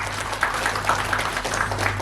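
Audience applause at a parenting seminar, a steady, diffuse patter of many hands clapping together for about two seconds under a low room hum, moderately loud and continuous without talk.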